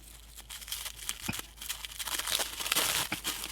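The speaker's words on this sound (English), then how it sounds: "So let's go ahead and unwrap this Ecto-1" Cellophane wrapping is crinkled and torn off a Johnny Lightning Ecto-1 toy car, giving close, bright, crackling rustles in quick irregular bursts for a few seconds, with no talking.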